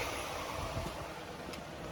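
A Lexus LS460 idles steadily at about 1,000 RPM, giving a continuous low, even engine hum heard close up with no talking.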